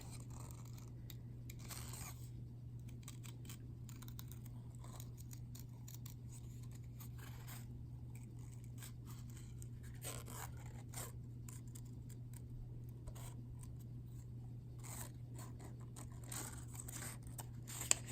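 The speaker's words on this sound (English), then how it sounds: "So all I'm doing is I am kind of fussy cutting around." Quiet, close snips of scissors cutting paper, irregular small clicks and crinkles over a steady low hum, no speech.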